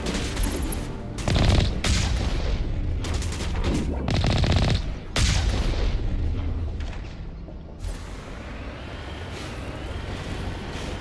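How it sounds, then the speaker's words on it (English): Gunfire in the Mass Effect Legendary Edition game, loud bursts of automatic fire and heavy booming impacts in several clustered volleys, easing into a quieter rumble toward the end, no talk. "And I'm getting shot at."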